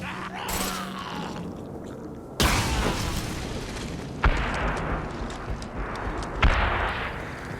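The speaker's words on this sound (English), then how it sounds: "explosion!" Explosions in the video game Mass Effect Legendary Edition: several loud booming blasts with sharp onsets, each trailing into a rumbling, crackling tail over continuous background game noise.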